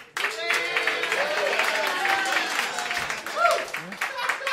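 Comedy-show audience clapping and cheering in a vote for comedian Dave Waite, a steady burst of applause, with a host's voice briefly over the crowd.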